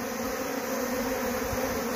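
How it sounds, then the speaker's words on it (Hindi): Himalayan honey bees swarm out of a large 12-frame bee box, a dense, steady buzzing drone that fills the air continuously and close by, with no voices. "आज 29 मार्च को ये मेरे बी बॉक्स से पहला स्वार्म निकला है।"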